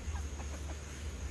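A chicken clucks in a few short soft bursts over a steady low hum, moderately close and fairly quiet.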